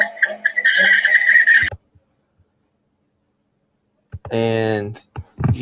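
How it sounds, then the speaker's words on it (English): Car tires squeal sharply through a flat, unbanked turn in a short, loud tonal burst, following a stretch of busy mixed noise and a brief silence. "And you can hear the tires squealing."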